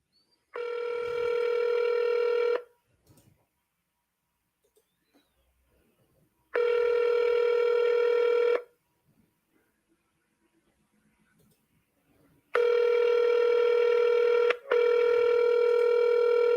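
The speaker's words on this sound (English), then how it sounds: "Let's call these people up." Outgoing telephone ringback during a real estate cold call, three long, loud, evenly pitched ring bursts of about two seconds each separated by long silent gaps, with no talk.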